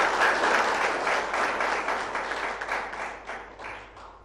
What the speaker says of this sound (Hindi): बहुत जोरदार तालियों से उनका स्वागत